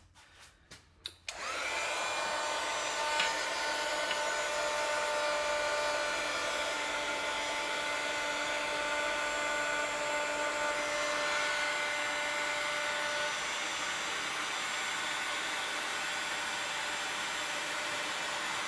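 A steady, loud blowing roar like a heat gun starts after a few brief clicks and runs continuously with a faint whine, no talking.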